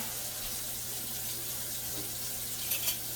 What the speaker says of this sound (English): 4 cups of water in this pot